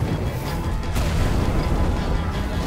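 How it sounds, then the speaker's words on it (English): Wither skulls exploding in Minecraft Story Mode, a continuous rumbling barrage of booming blasts, loud and dense with one sharper crack partway through. "Oh, it's shooting wither skulls, not meteors."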